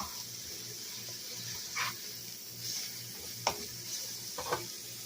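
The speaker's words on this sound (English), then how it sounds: "I'm going to saute this. All right, I'm going to give these a stir." Chopped onions and celery sauté in a pot with a soft, continuous sizzle, while a spoon stirs them in a few short scraping strokes spaced a second or so apart.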